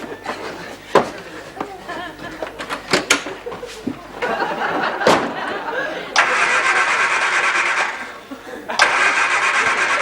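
A small car's engine cranks and catches, then settles into a steady running note, following door clunks and shuffling, with people talking over the start.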